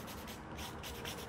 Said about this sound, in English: Use a brush to brush out all those like sand, dirty, everything.